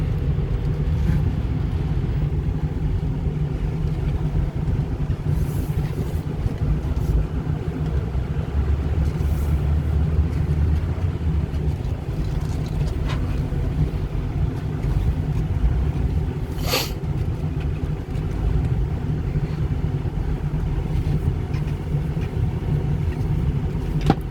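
A 2006 Ford F350 Lariat 4WD truck engine with an aftermarket turbo runs steadily as a loud continuous low rumble, with a few brief higher whooshes and flutters over the drone.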